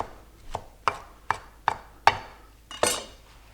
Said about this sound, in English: you definitely want to chop all of your herbs